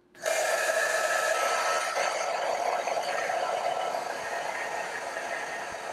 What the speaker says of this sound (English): I'm going to heat it up with a heat gun. It's just a pencil heat gun.